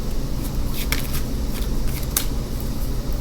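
Tarot cards are shuffled steadily by hand, a soft continuous papery riffle with a few sharper flicks of cards standing out, close and fairly loud with no talking.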